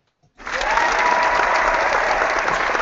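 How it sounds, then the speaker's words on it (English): Applause from an audience: a burst of many hands clapping that starts abruptly and holds at a steady, dense level to the end. "Clapping isn't loud enough."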